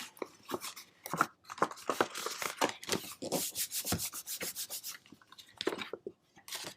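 A folded cardboard gift-box flap is rubbed down by hand, giving a run of dry, scratchy friction strokes in quick bursts, close and moderately loud with no talk.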